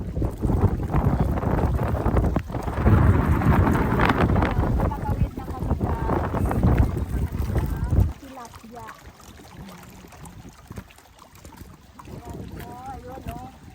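Strong gusting wind roars across an open microphone over Alapasco Lake in Batad, with water movement beneath, loud for the first eight seconds, then dropping to quieter sounds.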